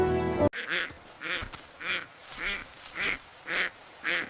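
Cartoon mother duck quacking in a steady series of about seven evenly spaced, loud, close quacks after a brief burst of other sound at the start.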